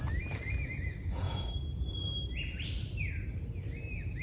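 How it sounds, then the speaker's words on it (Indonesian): Birds chirp and whistle at Watu Kunti in Indonesia, clear repeated calls over a steady low background rumble, some notes sliding up and down. "Suara-suara burung berkicau"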